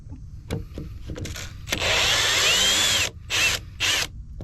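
A handheld power drill whirs indoors in a long steady burst, then two shorter close bursts, after quieter handling noises.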